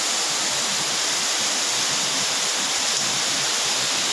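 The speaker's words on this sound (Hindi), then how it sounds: "वहाँ देखो पहाड़ों से आने वाला पानी पूरा बेक का साथ आ रहा है" Muddy rainwater rushes down from the hills in Itanagar during rain, a loud, steady, broadband roar with no pauses and no voices.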